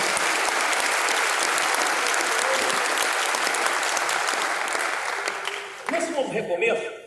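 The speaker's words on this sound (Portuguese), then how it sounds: "dá uma linda salva de palmas ao Senhor Jesus" A church congregation gives loud, sustained applause to Jesus during a Portuguese-language sermon. The dense clapping holds steady for several seconds, then fades out as other sounds take over at the end.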